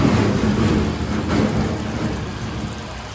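Rain drums on a metal sheet roof, making a loud, continuous rushing roar that swells slightly and then settles over a few seconds, with no talk.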